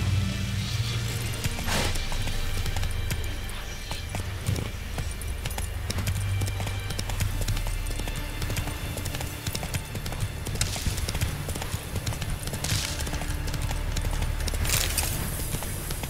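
Roach, a horse in The Witcher 3, trots with a steady clip-clop of hooves over a low rumbling game ambience, close and continuous.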